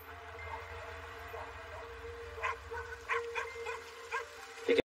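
Dogs handed in by a struggling local breeder at a rehoming kennel yip and bark in short, scattered bursts over a low background hum, the barks growing more frequent midway and ending with one louder close yelp.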